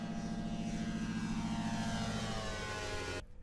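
A small homemade propeller plane flies close by with a steady, loud droning engine hum that holds evenly before cutting off abruptly near the end.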